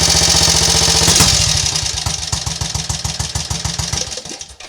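A Triumph Scrambles Cub replica motorcycle engine runs close and loud, settling into a steady, rapid single-cylinder thump that fades as the throttle is snapped and the engine dies.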